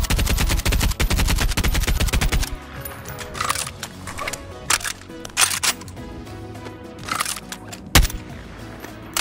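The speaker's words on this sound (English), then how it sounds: "It's a machine gun, and you can pretty much do this with it." Machine gun fire in the VR game Bonelab, a rapid, loud burst of shots for a couple of seconds followed by scattered single shots and clattering impacts.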